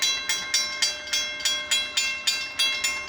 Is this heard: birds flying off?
no